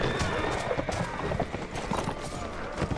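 Horse hooves clip-clop at a gallop in the medieval combat game Mount & Blade: Warband, a steady loud rhythm mixed with game effects and someone talking.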